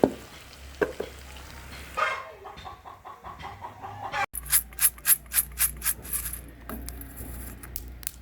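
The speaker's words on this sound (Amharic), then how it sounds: "ከዛ ቡናዬን ቆላለሁ።" Coffee beans roasting in a pan at home: soft stirring and scraping at first, then a rapid series of rhythmic rattling, clucking-like taps as the beans are shaken, with background ambience and no talk.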